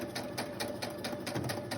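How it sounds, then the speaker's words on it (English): A sewing machine stitches a lace-covered envelope pocket in short, rhythmic bursts of needle clatter, close and fairly quiet, at a quick even pace. "I don't normally sew on this side."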